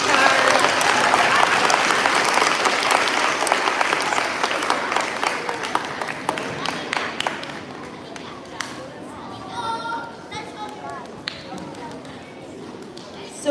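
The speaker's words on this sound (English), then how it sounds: "So another round of applause for Mr. Chard." A school assembly crowd gives a round of applause for a Maine Teacher of the Year, loud and dense at first, then gradually thinning into scattered claps, footsteps and soft murmuring.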